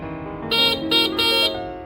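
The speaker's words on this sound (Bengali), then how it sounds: "আবার এই পাশে যদি এটা আসে এটা হচ্ছে হর্ন" The horn of a 2024 Shadow Tiger electric bike sounds as three short, bright beeps in quick succession, close by, over a low background hum.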